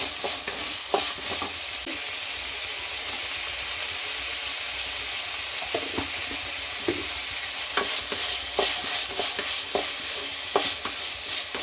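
Carrot stir-frying in a pan for vegetable fried rice, a continuous bright sizzle and hiss with intermittent scraping stirs and light knocks throughout.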